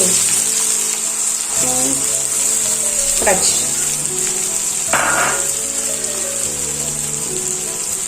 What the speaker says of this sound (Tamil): நல்லா பொரிக்குது. நல்லா பொரியுது.